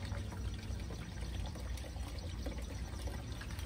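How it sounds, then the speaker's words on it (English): Water runs down a hydroponics tube and drips into small baskets, a quiet, continuous trickling and pouring sound that stays steady and faint from start to finish with no talking. "starts running water down our tube. I can hear it."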